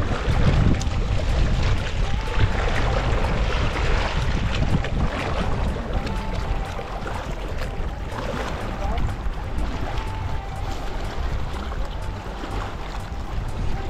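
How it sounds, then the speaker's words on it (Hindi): Waves wash steadily on Sheosar Lake amid wind buffeting the microphone, a constant loud broadband rush with no clear breaks. "लहरों का शोर"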